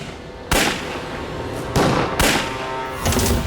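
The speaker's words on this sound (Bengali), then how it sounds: "এ তো গুলির শব্দ" Four loud, sharp gunshots ring out in a scene from a Bengali TV serial, irregularly spaced over about three seconds against a steady background, with no talking.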